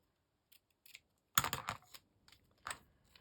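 Scissors snipping through a candy wrapper for a shaker charm craft: a few short crisp cuts close by, one louder cluster of snips in the middle, then quieter isolated clicks with silence between.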